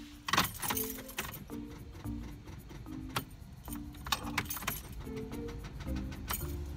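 Car with a dead battery failing to start: the key turns, and then comes a series of quick, faint clicking and buzzing pulses in irregular bursts with short pauses between them, with no engine ever catching.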